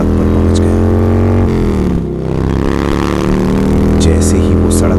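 A motorcycle engine drones steadily on a dark road at midnight, a loud, continuous rumble with a slight dip in the middle before picking back up.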